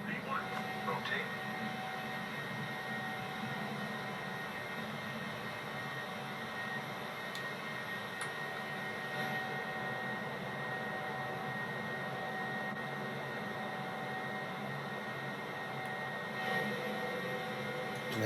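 A Southwest Boeing 737-700 in Microsoft Flight Simulator takes off from El Paso, its jet engines holding a steady, broad roar while voices talk over it.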